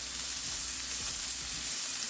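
Vegetables for a stir fry sizzle steadily in a hot pan, with soft scraping and stirring knocks coming through the close, continuous frying hiss. No one speaks.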